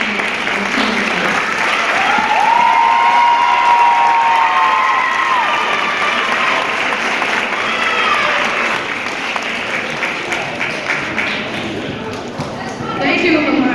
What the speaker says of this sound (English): Please give our salutatorian a round of applause